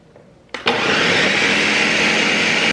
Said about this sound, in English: I haven't used this blender in so long.